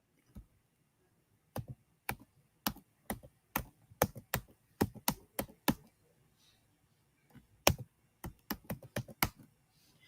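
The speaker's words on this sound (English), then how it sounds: "I think you're typing too fast." Fast typing on a computer keyboard: sharp, close key clicks in quick irregular bursts, a run of about a dozen strokes, a short pause, then another rapid flurry.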